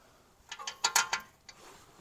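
A ratchet clicks in short bursts while bolts are snugged down on a BMW E46, a handful of quick, close mechanical clicks over about a second, then one more after a pause.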